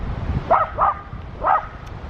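Big dogs bark three times in a quick burst, two sharp barks close together followed by a third after a short pause, fairly near and loud with no one talking.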